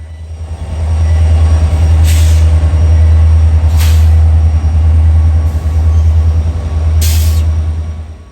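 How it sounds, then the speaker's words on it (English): A heavy coal train with four helper locomotives pushing at the rear rumbles toward Altoona, a deep loud droning engine throb with periodic sharp hissing bursts, close and sustained after a quiet start. "They're here at the back of our coal train, providing extra power to help control the train as it rumbles its way towards Altoona"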